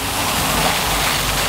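Hose water pours steadily into a container being filled for worm farm compost tea, a constant broadband splashing rush that stays loud and even throughout, with no talking.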